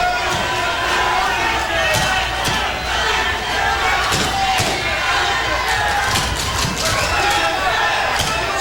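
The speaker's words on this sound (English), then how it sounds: "Crowd trying to motivate these fighters." Boxing crowd at a bout between Enrique Sanchez and Rafael del Valle, a constant loud roar of shouting and cheering spectators with scattered thuds, while a commentator talks over it.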